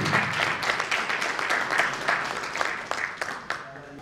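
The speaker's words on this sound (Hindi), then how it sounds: "एक बार तालियां बजाकर इनका स्वागत करें।" An audience at a meditation camp gathering applauds steadily to welcome arriving guests, a dense, continuous patter of many hands at moderate distance, with a voice faintly audible underneath.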